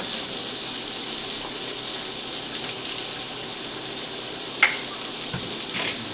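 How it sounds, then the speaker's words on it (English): Flour being stirred into hot oil in a pan for Cajun shrimp and grits gives a steady, bright hiss and sizzle throughout, broken once by a sharp scrape or tap. "Just want to kind of mix that around in there"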